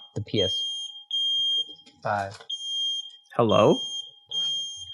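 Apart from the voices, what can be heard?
smoke alarm beeping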